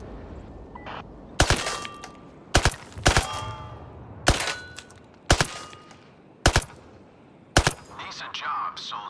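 A rifle fires sharp single shots at targets in the VR shooter Zero Caliber: Reloaded. About seven loud cracks come at uneven intervals over quiet background noise, with a faint rattle near the end.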